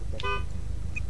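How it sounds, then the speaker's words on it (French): A car horn in the driving game Forza Horizon 3 gives one short, loud honk near the start, over a steady engine hum. "Le son de votre klaxon, s'il vous plaît."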